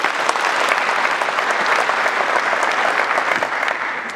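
Steady applause from an audience honoring ministry officials at a presentation in an ICT facility, dense and sustained for several seconds before tapering slightly at the end.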